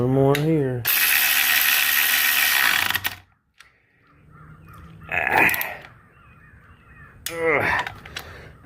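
A cheap $40 eBay electric ratchet tightening bolts, giving a loud, steady buzzing whir for about two seconds, then short bursts; brief speech at the start and later.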